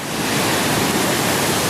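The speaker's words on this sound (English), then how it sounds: "waterfalls just keep coming and coming" A waterfall on Efate, Vanuatu, roars loud and steady, a continuous broadband rush of falling water with no pauses and no voices.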